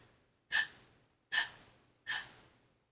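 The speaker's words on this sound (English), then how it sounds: "short, quick breaths that the vocalist takes" A singer takes three short, quick breaths, each a sharp close gasp followed by a fading exhale, evenly spaced with near silence between them.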